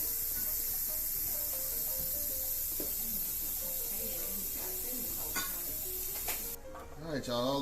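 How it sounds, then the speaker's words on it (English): Steady hiss of steam venting from a pressure cooker holding birria, broad and continuous for several seconds before easing off, with a voice coming in at the end. "now we're about to release all the pressure"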